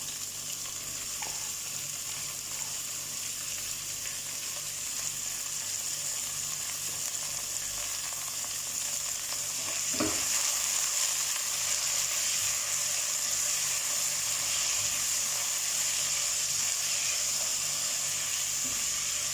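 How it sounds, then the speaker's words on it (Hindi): Mixed vegetables fry with onions in a pan for veg pulao, a constant bright sizzle and hiss running evenly throughout, with a brief scrape of stirring midway and no voices. "अब 1 से 2 मिनट वेजिटेबल को हम ओनियन के साथ फ्राई करते हैं।"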